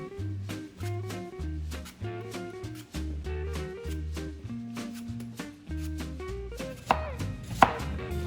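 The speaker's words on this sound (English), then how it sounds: "Then we're going to core and chop our apples into nice small pieces" A knife chops cored apples into small pieces on a board for a cast iron apple pie, with a close, rhythmic series of crisp chops and brief pauses over a musical background.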